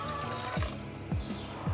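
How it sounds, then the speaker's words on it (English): Water pours into a cooking pot for one-pot ramen in a steady, soft trickle, with small gurgling splashes recurring about every half second. "we're going to go in with 1 liter of water"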